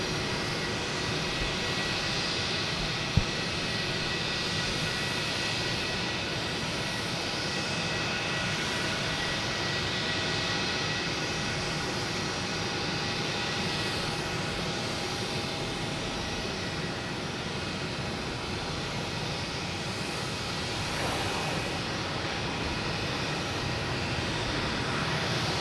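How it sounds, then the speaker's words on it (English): American Airlines Boeing 737 jet, flight from Phoenix arriving at Boston Logan Airport, a steady broadband engine roar held throughout at moderate distance, with one sharp click early on. "We have American Airlines coming in from Phoenix, 737."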